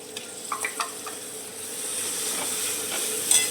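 Ginger, garlic and sambar masala frying with vegetables in a pan, a soft steady sizzle broken by a few light stirring scrapes and clicks, fairly quiet and close.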